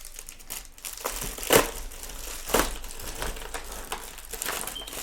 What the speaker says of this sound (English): I really want to use this boxing knife. So let's just cut the top.